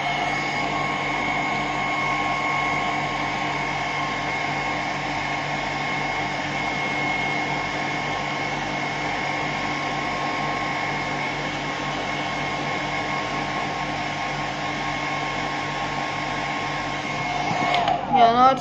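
A hair dryer blows continuously on medium heat and medium speed, a loud, steady, close whoosh with a constant whine, broken by brief rustling and handling noise in the final seconds.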